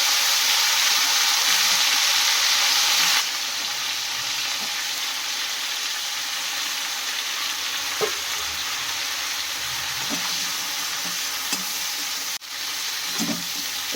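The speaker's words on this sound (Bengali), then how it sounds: "এবারে ওই একই তেলে আমি ফুলকপিগুলো ভেজে নেব" Cauliflower pieces fry in hot oil left from frying potatoes, giving a loud, steady sizzle that eases slightly after the first few seconds, with occasional stirring clinks.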